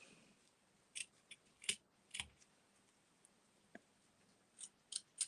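Sharp scissors snip the end of a ribbon at an angle for a handmade stamped card: several quick, close, crisp cuts with pauses between them, clear against a quiet room.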